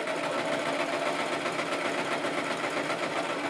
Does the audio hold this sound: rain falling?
no